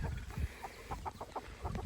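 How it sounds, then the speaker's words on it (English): A rooster on a busy family farm in Canada clucks in a string of short, close bursts over rustling and handling noise. "I think this one's a rooster actually."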